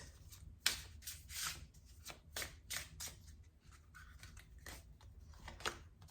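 Tarot cards are shuffled and laid out during a love reading, with close, quiet papery riffles, slaps and soft rustles in an irregular rhythm and no talking.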